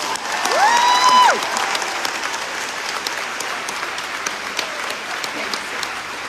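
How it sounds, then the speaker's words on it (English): Steady applause from a crowd, a dense wash of clapping that carries on throughout, with a brief rising tone near the start. "Give yourself a round of applause."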